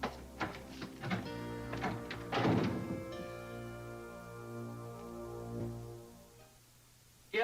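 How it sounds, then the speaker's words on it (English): Banging on a wall next door: a run of irregular, heavy thuds and knocks, densest early on, then a steady low drone carries on alone. "Some rude person started banging on the wall next door without a thought of who might be trying to work there"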